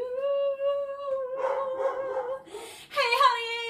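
Dogs bark, howl and yip in a tonal, drawn-out sequence, starting with a sustained howl-like cry before breaking into rougher barks and a final rising yelp, heard close and clear.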